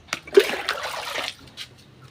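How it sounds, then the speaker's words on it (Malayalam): Water splashes and trickles into a container in a short burst lasting about a second, then thins to a few faint drips, close and fairly quiet, with no talking. "ഇത് മുങ്ങാൻ ഭാഗത്തിന് വെള്ളം ഒഴിക്കുക"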